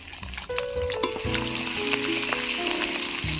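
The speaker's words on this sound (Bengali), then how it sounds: "লঙ্কাটাকে একটু ভেজে নেবো এবারে দিয়ে দিচ্ছি পেঁয়াজ কুচি" Dried red chilies and chopped onion fry in hot mustard oil with a strong, continuous sizzle and crackle, with sporadic clinks and scrapes from stirring. No voices are present.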